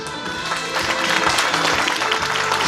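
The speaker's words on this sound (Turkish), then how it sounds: "Hem öğretmenlerimize hem değerli velilerimize hem de çocuklarımıza bir alkış." Applause from parents at a kindergarten year-end show and medal ceremony in a Turkish preschool, a dense, loud wash of clapping that is continuous throughout the short clip.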